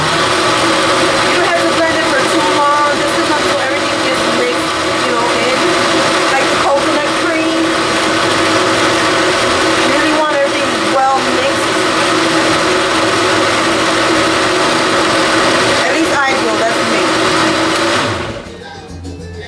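An old, small blender whirs loudly and steadily nearby for the whole stretch while making coquito, then winds down abruptly at the end.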